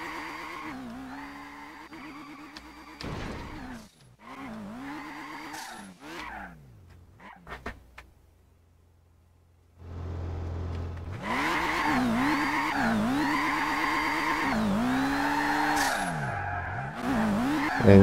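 Drift cars in Garry's Mod skid and rev, their engines rising and falling in repeated sweeps over tire squeal. After a brief lull the sound returns louder and steadier.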